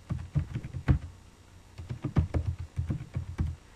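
Typing on a computer keyboard, a series of muffled, bassy keystrokes in irregular bursts, close and moderately loud, with a short pause midway.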